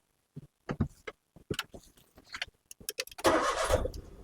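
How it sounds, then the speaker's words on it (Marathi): Keys jingle and clicks sound in the ignition, then a car engine cranks and catches, settling into a rough idle nearby. "आता मी तुम्हाला कीज लावून गाडी स्टार्ट करून दाखवतो"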